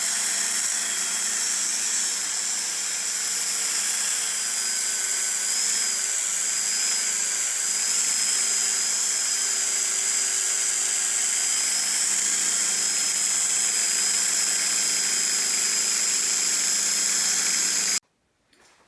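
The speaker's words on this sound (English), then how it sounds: "I think we are ready to start polishing." A polishing machine works on the painted frame of a Pinarello F10 bike, a steady high whirring whine held for about eighteen seconds at close range before it cuts off abruptly.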